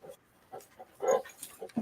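Great Pyrenees dogs or puppies whimpering in short, soft bursts with faint panting in between, fairly close and moderately quiet.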